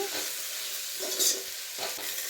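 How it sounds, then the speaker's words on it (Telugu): A spoon stirs tomato, coriander and mint in a hot pan for bagara rice, giving a soft steady sizzle with a few scraping strokes, close and moderately quiet. "ఇలా వేగిన తర్వాత టమోటా కొత్తిమీర పుదీనా వేసుకొని ఒకసారి బాగా కలుపుకోవాలి"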